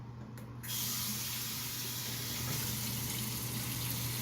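Tap water runs steadily into a sink while a face is washed with cleanser, a close, continuous splashing flow that starts after a brief quieter moment and carries on alone.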